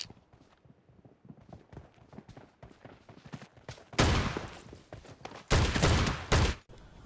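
An M1014 shotgun fires in a video game, two loud heavy blasts standing out after a stretch of quieter footsteps and scuffling.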